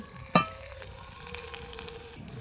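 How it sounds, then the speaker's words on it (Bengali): Whole cumin seeds, chopped ginger and green chili sizzle in hot oil, opening with a sharp drop-in burst that settles into a steady, close crackling hiss. "ফড়নের জন্য দিয়ে দিচ্ছি গোটা জিরে ফড়নটা খুব সুন্দর হয়ে ফুটে উঠেছে"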